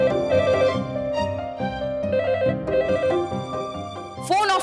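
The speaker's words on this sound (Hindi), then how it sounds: "फोन ऑफ कर दिया तो लैंडलाइन पे कॉल कर रहा है" A landline telephone rings repeatedly in a Hindi TV drama scene, a bright electronic ring tone heard over background music and a brief swell of other sound at the end.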